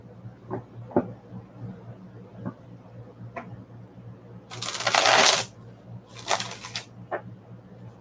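A deck of tarot cards is riffle-shuffled up close in two loud, crisp bursts, the first about a second long and the second shorter, amid light ticks and taps of handling.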